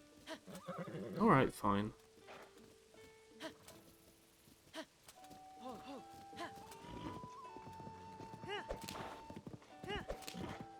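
In Zelda: Tears of the Kingdom, a horse gives a loud, close whinny, then its hooves clip-clop in a steady trot along a road while people chat over the game sounds.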